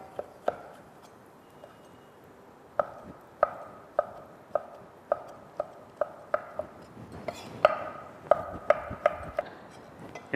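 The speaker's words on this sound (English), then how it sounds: "And then chop them fine" A knife chopping cheeky red tomatoes on a board: sharp, regular knocks in uneven bursts, some quick runs and some spaced pauses, close and clear over quiet background.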